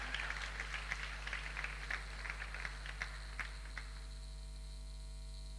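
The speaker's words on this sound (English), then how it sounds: "I'd like everyone to give yourselves a big, huge round of applause to put this together." An audience claps at the opening ceremony of the AISA Global Issues Service Summit 2019. Steady applause fills a room over a low hum, then fades out partway through.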